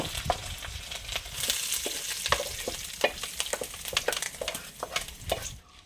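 A hot tempering of fried shallots and curry leaves sizzles as it is added to cassava cooked in milk, with continuous frying crackle and repeated scraping, clattering stirs close by.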